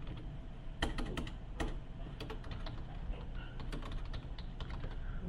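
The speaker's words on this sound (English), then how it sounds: "so I'm typing down there" A computer keyboard clatters with quick, irregular keystrokes, fairly faint and close, over a low steady room hum.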